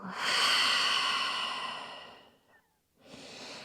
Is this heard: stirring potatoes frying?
no